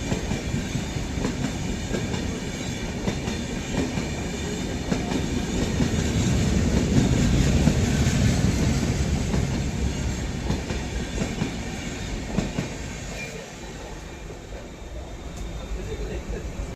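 The Jabalpur Express thunders past close by in darkness, a loud continuous rumble with clattering wheels that swells in the middle and eases slightly toward the end.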